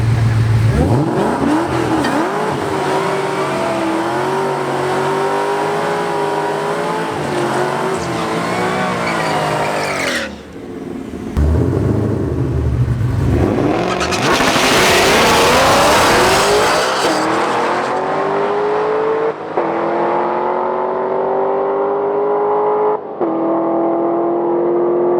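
Twin-turbo Malibu and a second drag car launching side by side down both lanes, loud engine roar climbing through rising revs, a brief lift, then another long wailing pull as the cars run away.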